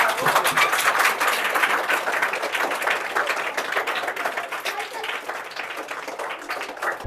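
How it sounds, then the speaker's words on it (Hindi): Applause for a quiz winner fills a school classroom, dense continuous clapping from a group that gradually thins, with some voices mixed in. "तालियां।"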